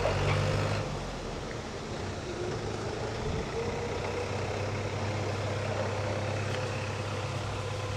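A tractor ferrying people out to boats at low tide on the Krabi coast rumbles with a steady engine drone, a louder surge at the start settling into a constant idling hum.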